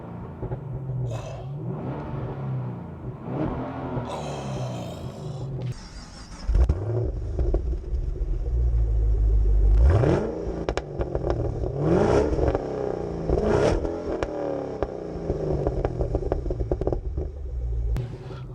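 A Vauxhall VXR8 GTS-R with a 6.2-litre supercharged petrol engine idles with a deep rumble, then revs hard several times in loud, rising blips that settle back between pulls, heard close up.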